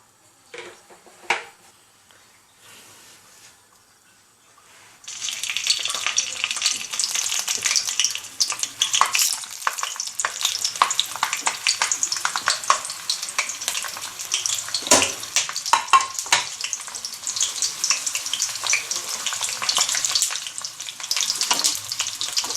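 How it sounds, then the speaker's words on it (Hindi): Green chillies drop into hot oil in a kadai and a loud, crackling sizzle bursts up and holds steady, with scattered sharper pops, after a few quiet seconds of small clatters. "अब हम इन मिर्चों को पहले फ्राई करते हैं।"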